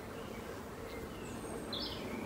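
Honeybees on a crowded central hive frame make a faint, continuous buzzing hum, with a few light chirps above it.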